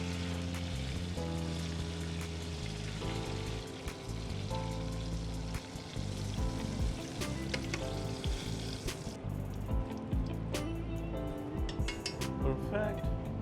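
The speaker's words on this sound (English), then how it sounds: "and now it's gonna deep fry" Battered, flour-coated paneer deep fries in hot oil with a steady, dense sizzle, joined by occasional clinks of utensils and pans in a busy kitchen, with no voices.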